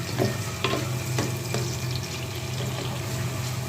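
Bitter gourd fries in a pan over a medium flame, giving a steady, close sizzle with a few light stirring scrapes and no talk.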